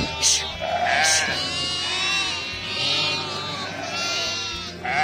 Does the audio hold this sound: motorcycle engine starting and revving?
no